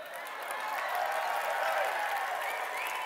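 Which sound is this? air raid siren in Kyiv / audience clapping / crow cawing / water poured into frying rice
audience clapping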